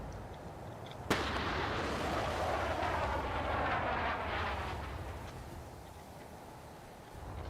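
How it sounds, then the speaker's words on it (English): A sharp mortar blast cracks loud and close in the Space Engineers video game, then rolls into a long, rumbling, crackling roar that slowly fades. "But they're sending more mortars over here."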